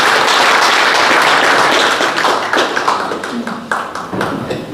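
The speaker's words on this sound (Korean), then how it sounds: "큰 박수 부탁드리겠습니다." Loud, dense audience applause in a meeting hall, steady at first and then breaking into more distinct claps as it fades, during an awards announcement at an organizational meeting.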